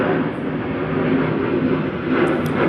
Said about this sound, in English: There's an airplane passing by.